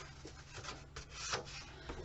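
Paper being scored along a ruler for an album page, a soft dry scraping rub lasting about two seconds, quiet and close, with no talking.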